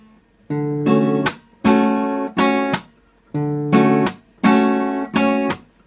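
An acoustic guitar player strikes the bass strings percussively against the neck mixed with strummed chords, producing six sharp, loud, rhythmic bursts in two matching groups of three, close and without speech.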